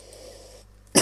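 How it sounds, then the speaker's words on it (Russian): One short, loud cough bursts out at the end after quiet background hum. "Простите за мой кашель"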